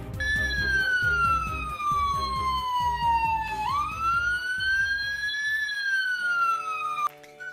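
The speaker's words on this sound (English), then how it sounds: "Nurse Flood's lovely ambulance and off Nurse Flood went with Naughty Norman as quick as she could to the hospital." A cartoon ambulance siren in a Fireman Sam episode wails in long, sliding rises and falls, loud and near, over a rhythmic low background.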